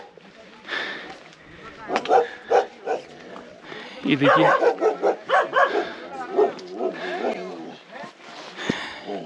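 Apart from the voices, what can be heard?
big Bhotia dogs barking at the Panar campsite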